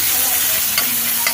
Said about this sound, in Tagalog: Diyan na tayo magigisa ng gulay.